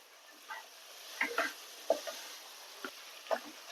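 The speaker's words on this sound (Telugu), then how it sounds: "మనం దంచి పెట్టుకున్న మిరియాల పొడి అంతా వేసుకొని బాగా నీట్గా మిక్స్ చేసుకోండి" Ground black pepper being stirred into a mutton paya mixture in a pan, heard as a few soft, scattered spoon scrapes and taps over a quiet background hiss.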